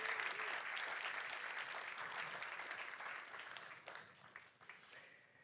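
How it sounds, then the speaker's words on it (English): Church audience applause for Pastor Aaron, a family ministries leader, as he is brought up; a steady, full round of clapping from the crowd that thins and tapers off near the end, with no talk over it. "round of applause, bring up Pastor Aaron"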